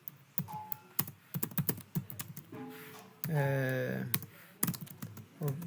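Fingers typing on a computer keyboard, with close, irregular clusters of key clicks and thunks, briefly interrupted midway by a sustained tonal, voice-like sound before the tapping resumes.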